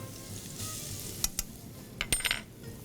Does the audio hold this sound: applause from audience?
no